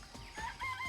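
Chickens clucking in a coop in the video game Danganronpa, several short close clucks and rising calls overlapping in quick succession with no talk.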